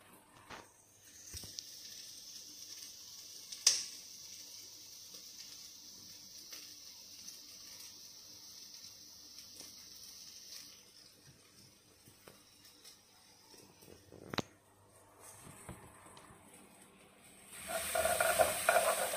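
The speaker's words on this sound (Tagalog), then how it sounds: "Haluin lang." Food sizzling and hissing in a pan while a utensil stirs and scrapes occasionally, with sharp clinks and a louder burst of frying noise near the end.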